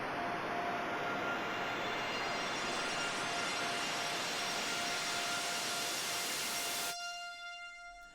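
Filtered noise layer with high strings above it, a sustained bright wash with steady tonal lines that holds loud and even, then cuts off abruptly near the end, leaving only a faint residual tail.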